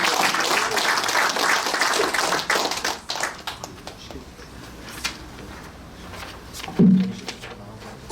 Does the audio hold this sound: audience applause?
yes